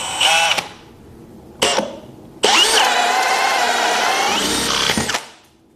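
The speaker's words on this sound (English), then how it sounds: "You've got to have a pretty sharp bit to efficiently drill large diameter holes" Cordless drill fitted with a 2 1/8 inch FISCH self-feeding bit boring a large hole through 2x6 lumber: two short whirring bursts, then a loud, sustained grinding cut lasting several seconds before spinning down, close to the mic.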